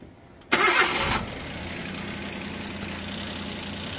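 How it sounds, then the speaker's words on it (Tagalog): A Suzuki K6A engine with a misfire cranks and catches after a valve adjustment, a loud burst at start-up that settles into a steady, rumbling idle, close by with no talk. "At pagkatapos nating na-resetting, paandar na tayo kung wala na bang palyar."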